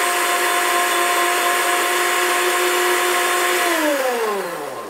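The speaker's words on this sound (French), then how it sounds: "Je pense qu'il faut bien prendre le temps de mixer ça hein, pour que la menthe puisse hop là, bien être mixée" A blender whirs loudly and steadily while blending hemp milk with mint, its motor pitch sliding down as it winds to a stop near the end.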